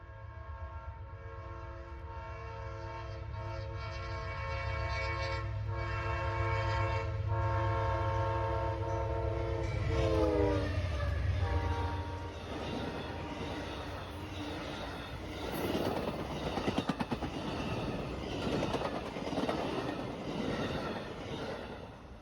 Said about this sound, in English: Continuing the Amtrak parade, wasting absolutely no time, was Amtrak's southbound Silver Meteor to Miami.